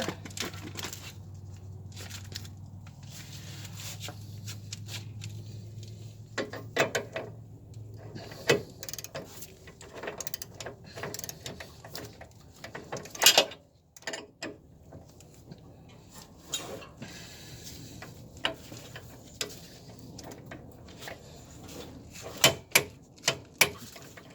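Clicks and ratcheting from a wrench torquing rear suspension bolts on a 2004 Nissan Armada, irregular mechanical ticks and clanks over a low hum, with louder knocks scattered throughout.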